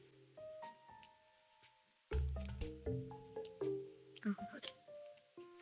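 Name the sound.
waterproof phone pouch being pressed closed and sealed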